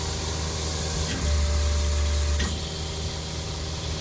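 Crop sprayer nozzles hiss steadily as they spray liquid fertilizer, a continuous broadband rush with brief switching clicks as nozzles turn on and off, over a low engine drone.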